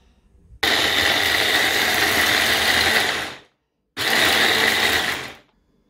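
An electric blender blends peeled, seeded orange with ice into a smoothie: a loud, steady whirring motor runs about three seconds, stops, then spins again in a shorter burst.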